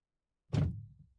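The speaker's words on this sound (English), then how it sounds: "Close the door." A car door in the video game Driving Life shuts with a single solid thunk followed by a short rattling decay, alone against silence.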